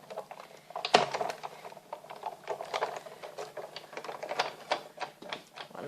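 A die-cutting machine feeds card stock through for stamping, giving close, dense clicking and clattering with one sharp knock near the start and an uneven mechanical patter throughout.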